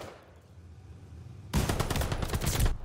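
After a quiet moment, an MP40 loaded with incendiary inferno rounds in Call of Duty: Vanguard opens up with one dense, rapid, close burst that lasts just over a second.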